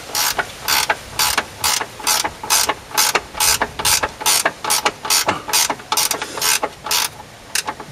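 A ratchet clicks in rapid, steady bursts while tightening the nut on a Hyundai i20 Mk1 lower control arm, roughly a dozen evenly spaced swings ringing out loud and close with no voices.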